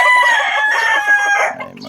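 A rooster in a backyard flock of young chickens crows loudly and close by, one long drawn-out call that fades at the end.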